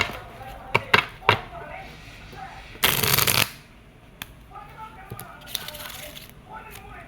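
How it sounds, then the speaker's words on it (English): UNO playing cards being shuffled by hand, a few crisp close taps and snaps followed by one dense riffling burst lasting about half a second, then lighter card handling. "Here goes shuffling the cards."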